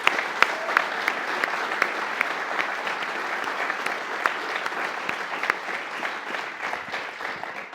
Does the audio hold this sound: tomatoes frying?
no